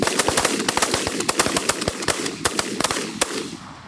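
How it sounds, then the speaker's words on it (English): Rapid volley of shotgun blasts during an opening-day Canada goose hunt in New Jersey in September, a dozen or more sharp reports in quick irregular succession, loud and close, with no talk. "Good shooting, boys."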